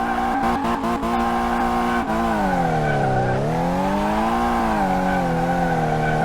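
An engine in the video game Car Mechanic Simulator drones loudly and steadily as a car drives, its pitch dipping and rising with the throttle, with no talking.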